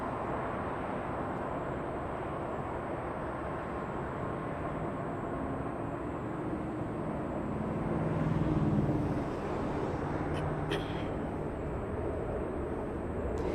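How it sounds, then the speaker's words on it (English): A JetBlue jet airliner takes off from Los Angeles bound for JFK, a steady broadband roar at moderate distance that swells slightly toward the end. "All right, JetBlue up next to take off."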